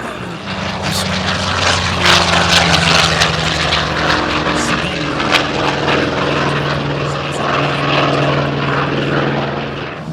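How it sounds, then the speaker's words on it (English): World War II propeller aircraft drone loudly and steadily overhead, orbiting high at an air show, engine tones slowly shifting in pitch as they pass, with crowd noise beneath. "these airplanes that you're about to see, the ones that are orbiting high overhead"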